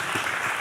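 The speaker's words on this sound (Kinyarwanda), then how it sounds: "mubakomera amashyi menshi cyane" A short burst of steady applause greets film actors at the launch of the film Paradizo, a dense wash of clapping that holds level throughout.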